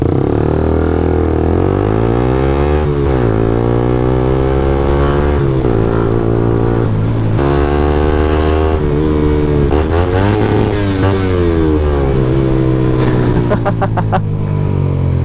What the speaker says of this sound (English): A rev in the sign of appreciation